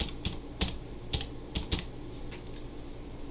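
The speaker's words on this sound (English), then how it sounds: "you can click here and type in restore" Several keystrokes on a computer keyboard, entering a search in Windows System Restore, click out in an uneven run of about eight taps, fairly quiet and close, with no talk over them.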